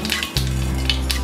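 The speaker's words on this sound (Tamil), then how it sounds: "கடாயில் எண்ணெய் ஊற்றி வச்சுருக்கோம், கடுகு தாளிச்சிடுவோம்" Mustard seeds and urad dal sizzling in hot oil in a kadai for tempering, a loud close crackling hiss with light popping throughout.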